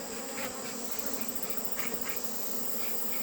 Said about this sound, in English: There's bees all over that.